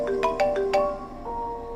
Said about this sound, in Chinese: 电话忽然响了。